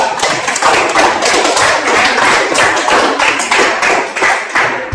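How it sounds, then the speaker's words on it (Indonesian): A classroom of students claps for a presenting group, a loud, dense and continuous burst of many hands that keeps up steadily before starting to thin at the end. "mari kita kasih tepuk tangan untuk kelompok 2."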